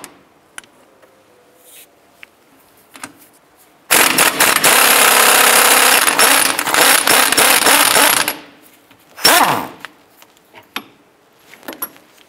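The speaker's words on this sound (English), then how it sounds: "Go ahead and remove the upper link bolt and the lower link bolt that goes into the control arm." Shock link bolts coming off the front suspension of a 2005-10 Jeep Grand Cherokee: a loud, sustained mechanical burst of about four seconds, then a shorter second burst, with quiet clinks between.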